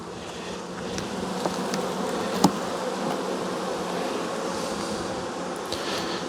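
Honeybees drone steadily at an open hive during a late-season colony check, forming a continuous close buzzing hum with a few faint clicks and knocks of handling over it.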